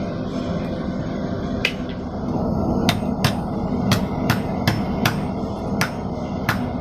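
Hammer blows ring out while forging a utilitarian knife, about ten sharp strikes in an irregular rhythm that tighten into a steady beat, close and loud over a rumbling forge background.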